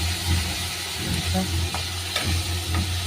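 Ground masala of garlic, coconut, curry leaves and ginger sizzles steadily in hot oil for field-bean pod bhaji. A continuous close frying hiss runs throughout, with occasional stirring scrapes and a low hum underneath.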